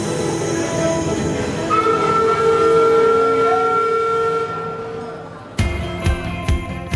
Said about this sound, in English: we have our train that you can jump on. There's Christmas carols playing, and the lights on the train actually change.